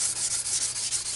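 Aluminum is hand sanded with 800 grit sandpaper, giving close, rhythmic rasping strokes, about seven back-and-forth passes in quick succession, with no voices.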